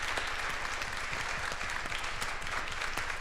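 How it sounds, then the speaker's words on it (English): Audience applause for a panel moderator and panelists after a school testing-season discussion, a steady dense clapping that holds evenly throughout with no voices over it. "let's give a big round of applause for our moderator"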